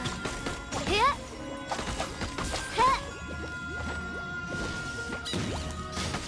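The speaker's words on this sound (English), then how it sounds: "Or just smashing it with a big sword." A big sword smashes an object in the Genshin Impact video game, two sharp crashing hits about two seconds apart over game music and effects, with a voice speaking in between.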